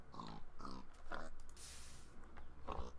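Pigs in the video game TerraFirmaCraft give four short, quiet grunting oinks spaced apart, with faint background noise between them.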